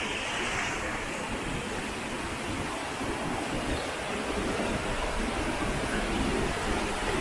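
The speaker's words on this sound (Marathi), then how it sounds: "जोरदार पाणी." Strong, swollen stream water rushing after an hour of cloudburst-like heavy rain in the Konkan countryside, a steady, dense roar of flowing water that is continuous and fairly loud throughout, with no talking.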